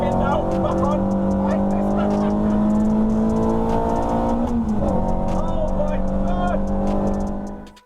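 Stripped-out track car with no power steering driving hard at Alton Park, engine droning loud and steady before a brief dip as the throttle lifts, then pulling back on; a voice talks over it throughout.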